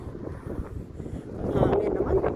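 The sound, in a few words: wind blowing outdoors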